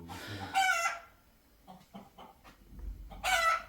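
Chickens clucking in short bursts with a rooster crowing loudly at the start and again at the end, fairly close and with no talk over them.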